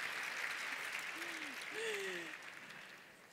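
Conference audience applause, soft and fairly distant, a steady patter of clapping that fades toward the end, with a brief tonal voice-like sound in the middle.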